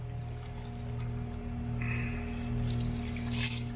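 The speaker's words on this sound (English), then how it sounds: "I'm going to fill my pump up with water again until water starts coming over the top of it" Water is poured into a pump to prime it until it flows over the top, a soft splashing trickle over a steady low motor hum, brightening into fuller splashing near the end.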